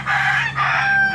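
A pet rooster crows close by in a backyard kept with chickens and ducks, one loud drawn-out call rising and falling in two parts, with no talking.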